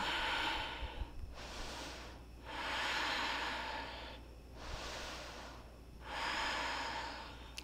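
Slow, deep breathing during a yoga class: three long, audible inhales and exhales with a steady rhythm, close and breathy, with no talking.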